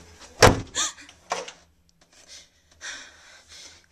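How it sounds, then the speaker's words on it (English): A door in a house opens with a sharp knock-like thump followed by brief creaks and soft scraping, near and fairly faint, with some breathy sounds around it and no clear talk. "It's just the door."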